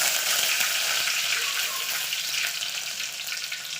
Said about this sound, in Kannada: ಇವಾಗ ನಾನು 1 ಎಳೆ ಕೊತ್ತಂಬರಿನ ಕರಿಬೇವು 1 ಎಳೆ ಕರಿಬೇವನ್ನು ಇದರಲ್ಲಿ ಹಾಕ್ಕೊತೀನಿ.